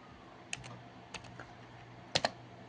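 A laptop keyboard gets a few sparse keystrokes, single taps and then a quick double click, close but quiet over faint room hiss.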